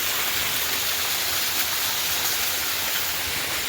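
Dense, continuous roar of heavy rain falling outdoors in Porbandar, a loud and even wash of noise with no pauses or voices.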